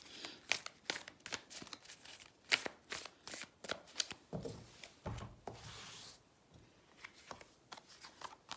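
A deck of tarot cards is shuffled close up: a string of sharp, papery slaps and riffles, with softer rubbing and sliding of cards in between.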